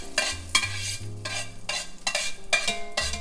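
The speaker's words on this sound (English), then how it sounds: "Let me move this butter around the pan a little bit." Butter being pushed around a hot pan for seasoned lamb loin chops, with a steady sizzle and a few scraping stirs of a utensil against the pan close up, all with no voice.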